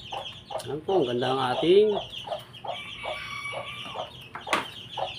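Brahma chickens of the original colouring cluck and call with bright harmonic bursts through the first two seconds, then softer clucks follow while a person talks nearby.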